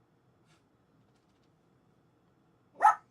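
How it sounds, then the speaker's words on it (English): A single sharp dog bark rings out near the end, short and fairly loud after near silence. "why are we barking? No barking."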